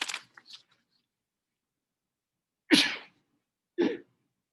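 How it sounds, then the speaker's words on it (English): Two sharp sneezes from a person in a quiet room, each a brief loud burst a second apart, after a few faint soft sounds. "I'm gonna sneeze."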